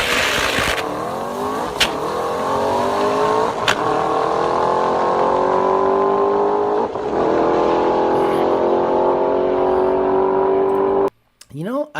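A naturally aspirated Coyote-engined Ford Mustang launches hard down a drag strip, its engine wailing loudly and climbing through the gears for about eleven seconds with a sharp shift break before cutting out abruptly.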